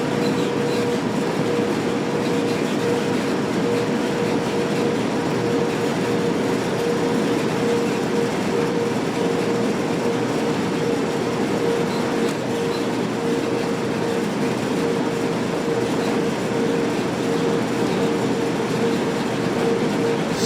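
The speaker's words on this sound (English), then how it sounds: "Powering off, power on, power off, brake on, brake off. Keep control of the loco." BNSF ES44C4 diesel locomotive hauling a train up Cajon Pass in Train Sim World 3, a steady loud engine drone with a constant tonal hum and rolling rail noise throughout, no talk.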